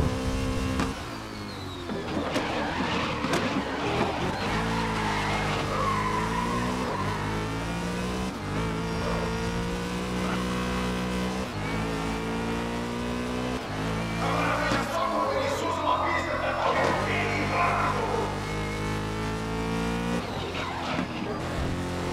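Race cars in the video game GRID (2019) running a lap, with a steady engine drone and rising and falling revs that continue throughout under layered game sound, with occasional tire squeal.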